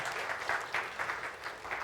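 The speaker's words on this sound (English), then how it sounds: "One more thing before definitely deserves a big applause." Faint, sparse applause at a startup talk about a rocket company, with a few pulsing bursts of clapping heard from a distance.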